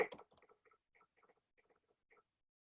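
A Morse code telegraph sounder clicks out the word "Morse": one louder opening clack, then sparse groups of short, crisp clicks separated by pauses, faint and alone.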